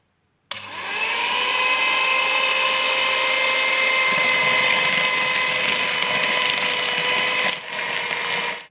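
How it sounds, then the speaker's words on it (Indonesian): An electric mixer blending a drink whirs steadily at high speed for several seconds, a loud continuous motor drone with a brief dip before ending. "Kemudian semua bahan kita mixer ya."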